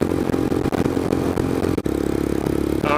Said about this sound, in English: I love this Delcovic exhaust. It makes great sounds.